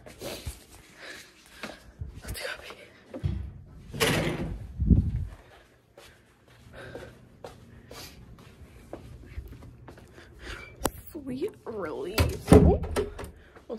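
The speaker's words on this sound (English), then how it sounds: "Let's lock my door" A dorm room door is pushed shut and locked, giving a few dull thunks and a sharp latch click among rustling and footsteps, with people speaking nearby.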